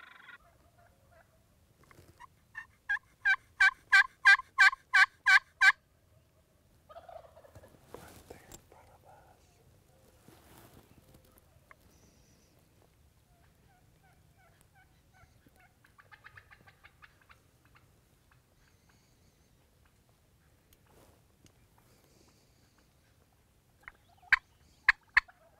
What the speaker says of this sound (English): there's birds all around them gobbling